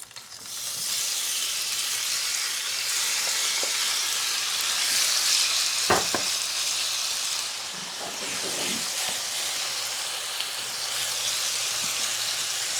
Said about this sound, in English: my oil is hot, so now I'm going to go ahead and add my shrimp.